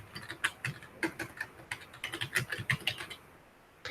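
Rapid keystrokes on a computer keyboard as a map name is typed, a close, steady patter of clicks lasting several seconds before a brief pause.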